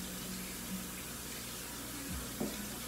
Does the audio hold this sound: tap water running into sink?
yes